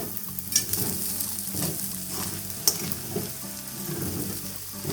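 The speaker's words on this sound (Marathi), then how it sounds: "साबुदाणा आता परतून घेऊया" Soaked sabudana (sago) is sautéed in a pan for khichdi, with a steady sizzle under repeated scraping and stirring strokes and a couple of louder clinks of a spoon against the pan, close up.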